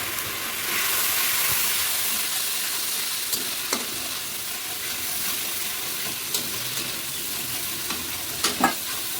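Turmeric and water are stirred into a pan with broad beans for a mochar ghonto (banana flower curry), giving a steady close sizzle with scraping stir strokes and a few sharper clinks near the end, without talk.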